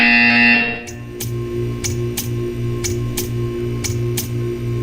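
A repeating electronic buzzer from a Roblox video game pulses in an even rhythm, about twice a second, over a steady low background hum.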